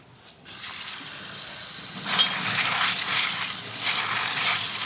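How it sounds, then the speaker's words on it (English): Tap water gushes steadily over Anasazi beans in a colander, with a continuous rushing spray and some rattling of the beans as they are rinsed and sorted. "I put these in a colander. So I'm going to rinse these, sort through them"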